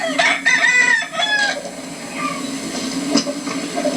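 Roosters, fighting cocks kept in holding pens built from nailed 4x4 or 2x3 lumber, crow and cluck nearby, with a long crow early on followed by scattered calls and clucks over a steady background murmur.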